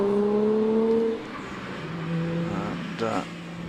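A Tuscan sports car launches off the line at the Prescott hill climb, its engine note rising and then easing as it pulls away, with a commentator talking over it.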